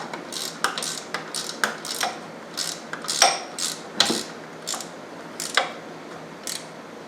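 A ratchet clicks in short irregular bursts while alternator bolts are tightened on a 2010 Nissan Altima 2.5L, with close, sharp metallic ticks and light knocks and no talking.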